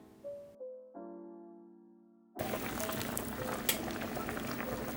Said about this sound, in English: Once all your ingredients are nicely mixed together, boil for 15 minutes.